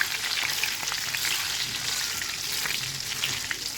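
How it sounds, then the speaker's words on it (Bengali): Red sweets (lal mishti) deep-frying in oil, a loud, continuous crackling sizzle with faint bubbling and occasional stirring, close and unbroken. "ভালো করে ভেজে নিলাম নিয়ে এবার আমি এটাকে তুলে নেব সমস্ত মিষ্টিগুলো আমার ভাজা হয়ে গেছে"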